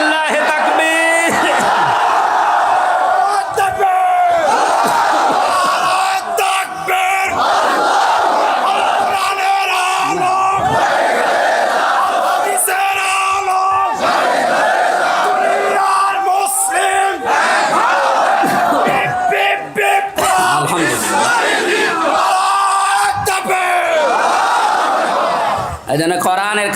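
A large crowd at an outdoor Bangla Islamic sermon chants loudly and repeatedly in unison, answering a preacher's takbir call with sustained, echoing rhythmic shouts that carry through the whole passage.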